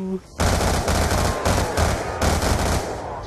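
Bursts of automatic gunfire from Black Ops 2 Zombies on the Origins map, loud rapid volleys in several strings with brief gaps between them.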